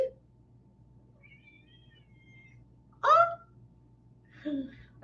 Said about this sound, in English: That was the longest meow ever. That was a performance meow.